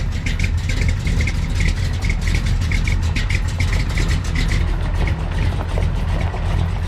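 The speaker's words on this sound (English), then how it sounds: "Right now, he's about to roll out my truck." Pickup truck with an old big block engine being driven out, with a steady, loud, low engine rumble and rapid rhythmic ticking that runs throughout.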